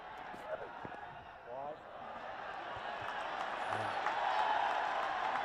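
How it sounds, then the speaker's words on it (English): Cricket crowd at a T20 international between Nepal and Namibia, home fans cheering and applauding as a broad, steady roar that slowly swells, with scattered claps and a commentator talking over it. "The crowd celebrating this."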